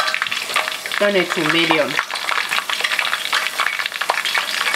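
Fry bread sizzles and crackles steadily in hot oil, a dense, close frying hiss throughout, with a short stretch of talking near the start.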